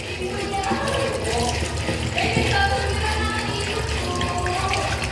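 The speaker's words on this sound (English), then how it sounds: "Rinse your hands thoroughly under running water." Tap water runs steadily into a sink as hands are rinsed, a continuous splashing stream with small drips, close and fairly loud, with a voice talking over it.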